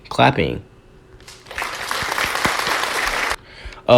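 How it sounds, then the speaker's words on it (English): A short burst of clapping from a few people in a small studio, a sharp dense patter of about two seconds set between stretches of talk before and after. "Oh, clapping."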